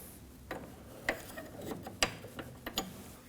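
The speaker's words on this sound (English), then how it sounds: "We can go ahead and break our jam nut free with a 19mm." Wrench ratcheting to break a 19mm jam nut free on the steering rack of a 1993-2001 Subaru Impreza, several sharp metallic clicks and pops at irregular intervals, close by in a quiet workshop.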